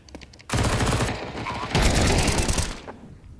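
Rapid gunfire in a professional Counter-Strike match, dense bursts of rifle shots packed together in a loud, continuous volley, with a short pause before a second heavy burst.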